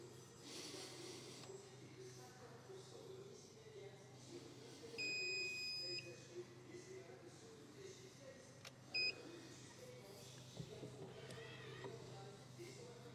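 Two short electronic beeps from button presses on an automatic door handle ring out a few seconds apart, a sustained tone followed by a brief one, over a steady low hum and faint background noise.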